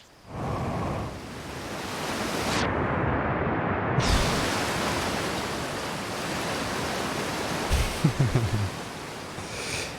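A broad, steady rush of falling water from a waterfall in the video game Outer Wilds fills the scene, loud and constant, with a few faint low thumps near the end.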